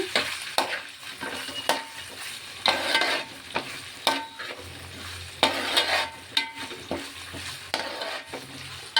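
Ginger garlic paste fries for a Godavari-style fish curry, giving a steady close sizzle broken by repeated spoon scrapes and stirring clatter against the pan.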